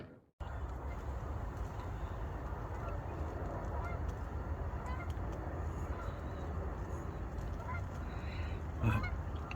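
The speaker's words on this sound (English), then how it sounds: "The old geese coming into landing" Geese honk repeatedly as they come in to land at a carp fishing lake at sunset, the calls steady and moderately close over a constant rush of wind.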